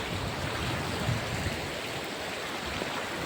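Heavy rain pours down in the dark while water runs and floods around a house, forming a dense, unbroken hiss that stays steady and loud throughout.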